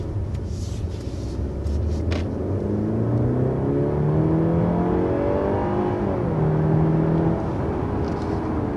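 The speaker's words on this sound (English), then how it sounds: "there's a 0 to 60 test with this 2023 C300" A 2023 Mercedes-Benz C300 sedan with a mild-hybrid powertrain pulls hard through a 0 to 60 run, its engine note climbing steadily through the gears in a loud, continuous rising drone with brief shift dips and no talking.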